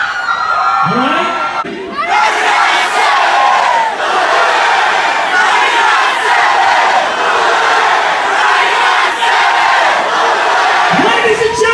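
A large crowd at an outdoor radio-station rock concert cheers, whoops and shouts loudly, after a brief dip near the start, sustained as a dense roar with a voice briefly rising through it.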